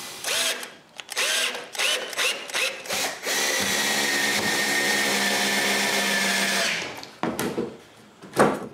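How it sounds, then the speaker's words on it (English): A power drill drives screws to fix a wooden stop across the end of wooden trailer ramps, with several short whirring bursts followed by one long steady run and a final brief burst, close and loud. "it's time to screw a stop at the end to the width of all the side planks"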